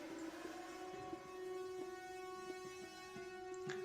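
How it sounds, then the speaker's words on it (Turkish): A siren alert from the mobile strategy game Age of Empires Mobile sounds as a steady, sustained, droning tone that holds at an even level for several seconds, with no talking over it. "Sirenler çalıyor."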